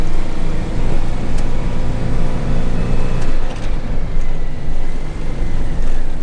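A Citroen Dyane's small engine drones steadily while driving, fitted with extra sound insulation, a constant low rumble with road noise and a few faint rattles, fairly loud and close throughout.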